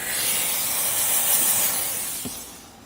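A steamer releases a steady, loud, close rush of steam that holds for about three seconds and thins out toward the end.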